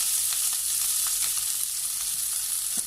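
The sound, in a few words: spring onion sautéing in cooking oil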